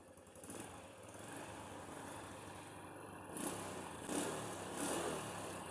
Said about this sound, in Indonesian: Dan kita tes kembali suaranya seperti apa.